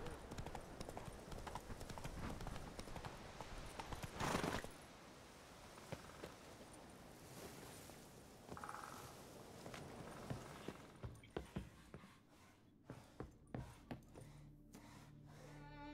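Roach the horse clip-clopping along in The Witcher 3 game, a steady hoof rhythm in the first half with game ambience and music, thinning into scattered hoof taps toward the end.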